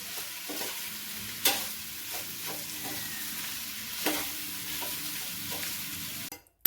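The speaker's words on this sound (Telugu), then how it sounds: "గోబీ కూడా వేసుకుని కొంచెం ఫ్రై చేసుకున్న తర్వాత" Cauliflower curry seasoned with salt and chili fries steadily in a pan, a close sizzle broken by a few sharp stirring clacks from a utensil, and it cuts off abruptly at the end.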